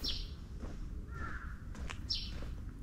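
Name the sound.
crow cawing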